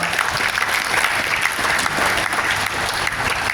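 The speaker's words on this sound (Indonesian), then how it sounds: "Tepuk tangan buat Pak Chandra." An audience at a Ramadan break-fast gathering in Depok applauds a newly introduced official, producing dense, even clapping that holds at steady volume throughout with no voices over it.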